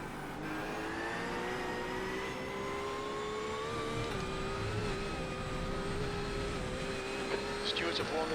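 Porsche 911R engine in a racing game at the Nürburgring in the rain, a steady high whine held at speed with a slight pitch drop near the end, continuous and close.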